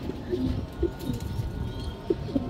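A young racing pigeon coos softly in short low bursts close by, over a murky background.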